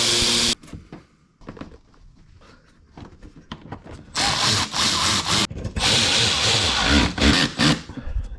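Power drill driving screws into the underside of a Porsche 996 Turbo, rising in loud whirring bursts with brief pauses, plus scraping and rattling handling noise close by.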